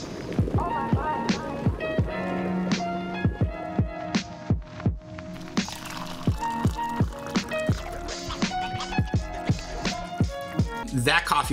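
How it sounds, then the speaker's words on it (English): A homemade drip coffee maker of copper pipe and a glass funnel drips slowly, giving a string of sharp, ringing drops at uneven intervals about half a second apart, close and clear with no talk. "I've actually made myself a coffee maker with some copper pipe, a glass funnel. It was just a slow drip."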